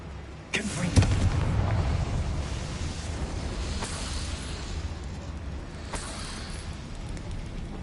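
Confringo fire spell explosion in the Hogwarts Legacy video game, a sharp burst followed by a long loud rumbling roar that slowly fades, close and without talk.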